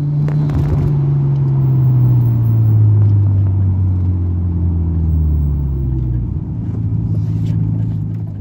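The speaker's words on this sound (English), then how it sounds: "In today's journey, we're going to be taking a little drive around the neighbourhood" A Nissan Skyline R33 cruises around a residential neighbourhood, its engine a loud, steady low rumble that rises and falls gently through gear changes, heard from inside or close to the car with no talking.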